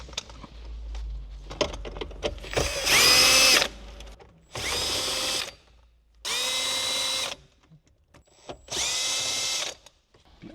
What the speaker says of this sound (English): And let's remove those using a 10mm socket.